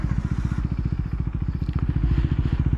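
A motorcycle pulls away up close, its engine giving a loud, rapid, rhythmic thumping throb that builds slightly as the bike moves off, with no talking over it.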